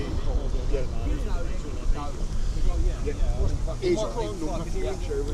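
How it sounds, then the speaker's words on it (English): Gusty wind buffeting a microphone at an outdoor protest in Norwich, a steady low rumble and crackle throughout, with people talking faintly underneath. "it's windy, so the wind might blow it over"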